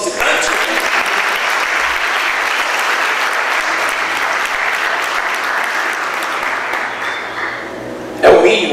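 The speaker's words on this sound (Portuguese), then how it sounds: "Você pode aplaudir nosso visitante?" A church congregation claps loudly for a visitor, sustained applause that tapers off near the end before a brief louder burst, with voices faintly mixed in.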